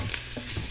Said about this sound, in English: The sausage is browning nicely.